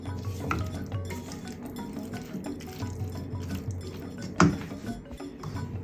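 A spoon stirs soy chunk curry with cauliflower in a pot, giving soft wet scraping and a few light clinks against the metal, one sharper knock near the end, close and quiet with no talk.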